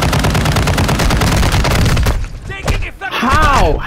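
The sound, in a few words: gunfire in the video game Warzone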